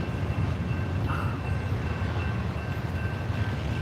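A long CSX freight train passes, led by a locomotive, producing a steady, loud rumble of wheels and cars that holds evenly throughout with no pauses.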